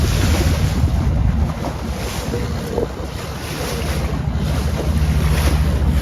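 On a squid-fishing boat at sea, loud, buffeting wind roars across the microphone over the low wash and surge of waves, rising and falling continuously without any voices.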